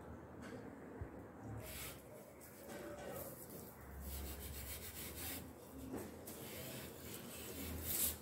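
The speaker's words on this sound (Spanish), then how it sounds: "de vuelta la virulana para hacer el efecto envejecido y colocar el sellador" Steel wool rubbed over wood to give an aged finish makes soft, continuous scratchy rubbing strokes, close but quiet, steady throughout with faint background noise.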